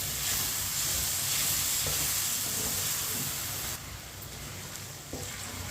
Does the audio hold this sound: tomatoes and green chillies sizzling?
yes